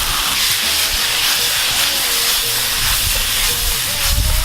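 Abalone and its juice hitting a hot pan for abalone pasta, a loud continuous sizzling hiss of steam filling the whole stretch close up, with faint low sounds beneath.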